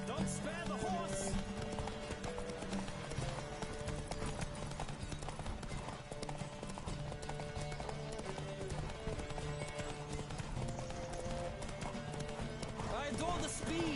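A horse gallops in The Witcher 3 race, its hooves drumming continuously and close under a busy game mix, with voices calling out over the running.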